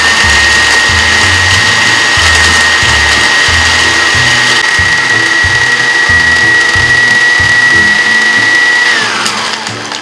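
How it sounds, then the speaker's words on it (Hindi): An electric grinder runs loud and close, grinding roasted nihari masala spices with a steady high motor whine and a pulsing rattle of the spices, then winds down at the end. "निहारी मसाले के सारे इंग्रेडिएंट्स को मैं ग्राइंडर में डाल के अच्छी तरह से पीस लूंगी"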